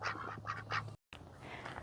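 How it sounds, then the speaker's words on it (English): A black-and-white duck with green on its plumage, one of a home-hatched garden flock, gives a few short nearby quacks, with a brief gap of silence partway through. "this black and white duck was out, and it just looks so pretty because it has green on it as well"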